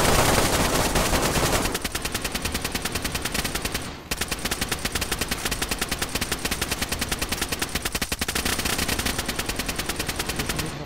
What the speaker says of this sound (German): Ich schieß auf das Tor.